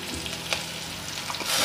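Garlic and raw turmeric paste hits fried onions in a hot pan for a brief, close, steady sizzle, with a light clink partway through and the frying swelling louder at the end.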